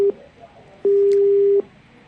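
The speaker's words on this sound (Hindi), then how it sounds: "दयाराम परस्ते जी ने फोन कट कर दिया हमारा" After a call is cut off, a phone line sounds a steady low tone in repeating beeps, one short and one long, with faint line noise between them and no speech.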